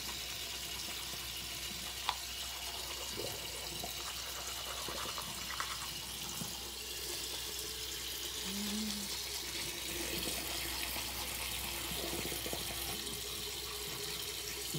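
Tap water runs steadily into a bathroom sink during teeth brushing, a constant gentle hiss that lasts throughout with only faint clicks and small splashes on top.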